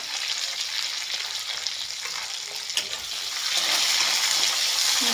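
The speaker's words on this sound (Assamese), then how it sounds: "পিঁয়াজ আৰু নহৰুখিনি একেলগে দি দিছোঁ। এইখিনি অলপমান ভাজি লওঁ।" Onion, garlic and bay leaves fry close up in a hot pan, giving a dense, constant sizzle with stirring that grows louder toward the end.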